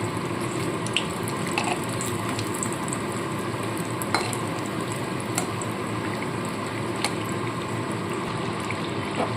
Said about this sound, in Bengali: সমানে উল্টে পাল্টে আমি কিন্তু এইভাবে ভাজতে থাকছি